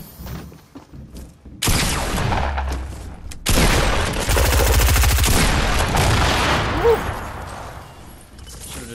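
Assault rifle fire in Fortnite rattles out in fast, loud bursts, with a sustained automatic stream in the middle and thuds around it, close up.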